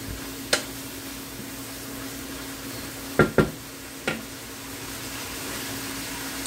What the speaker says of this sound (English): I'm going to add my onions. Get those all mixed in and get those a little bit cooked.